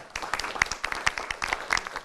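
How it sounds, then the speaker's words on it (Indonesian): Studio audience on a TV talk show clapping, a brief sparse burst of individual claps, fairly close and uneven. "tepuk tangan dulu aja"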